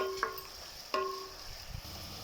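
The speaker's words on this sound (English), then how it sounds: "Fry this until golden color onion" Onions with green chillies frying in a pan for baghara rice and chicken curry, with two sharp scrapes of a spoon against the pan over a faint, steady sizzle.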